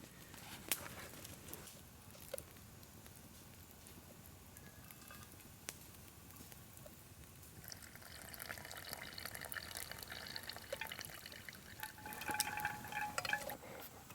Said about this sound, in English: we're going to pour our decoction down through the handkerchief, filtering out all those big pieces of black walnut hull